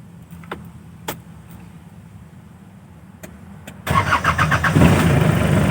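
A car engine is started after a few quiet clicks, cranking and catching with a loud close roar before settling into a steady idle.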